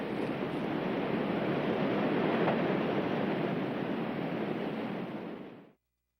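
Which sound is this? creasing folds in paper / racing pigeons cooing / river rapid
river rapid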